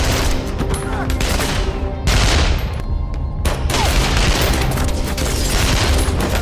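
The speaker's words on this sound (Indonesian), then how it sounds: "Nick yang terus dikejar anak buah Gudermes terus bergerak menghindari setiap tembakan dan" Dense bursts of gunfire in a film fill the scene, volleys and rapid shots crackling over a loud, booming backdrop with brief lulls between.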